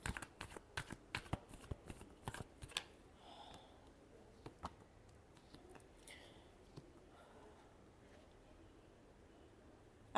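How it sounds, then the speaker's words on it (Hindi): Tarot cards being shuffled by hand, a quick cluster of crisp riffling snaps up front followed by softer scattered flicks and slides, quiet and close. "Last shuffle."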